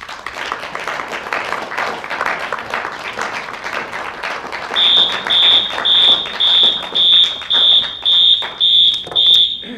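A fire alarm goes off during a panel discussion on unions, the Black agenda and working-class research, its loud high-pitched beeps pulsing steadily about every half second over crowd noise and applause.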